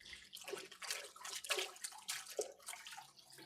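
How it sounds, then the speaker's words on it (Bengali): 3D printed sofa cover fabric being washed in water, soft splashing and sloshing in several uneven bursts, faint and close, without speech. "দেখেন আমি আপনাদের ধুয়ে দেখাচ্ছি"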